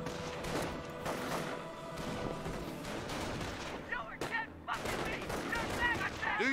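Rapid gunfire and bursts of shots crackle in a Company of Heroes 1 battle between US and Wehrmacht forces, with explosions and brief shouted unit voices mixed into the dense combat noise.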